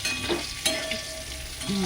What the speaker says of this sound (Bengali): এই যে পটল ভাজার তেলের মধ্যেই আমি এবার আলুগুলো দিয়ে দেবো।